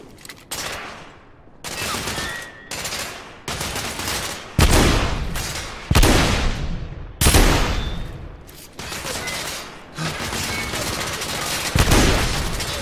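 Heavy gunfire in the video game The Order: 1886, with repeated loud volleys and bursts of automatic fire broken by brief pauses, some crashing booms, close and intense.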